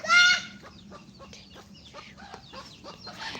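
A hen clucks in short repeated bursts at close range, with faint high peeping from chicks around her.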